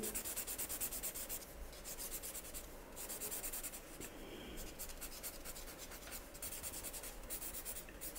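A felt-tip marker scratches and rubs across paper, filling in a background inside pencil outlines of an imaginary bird with continuous, close back-and-forth strokes and brief pauses between passes.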